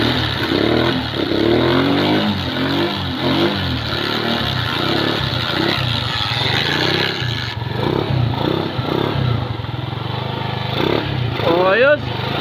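A motorcycle engine starts and revs repeatedly nearby after a CDI conversion to battery operation, loud and rough, with people talking over it.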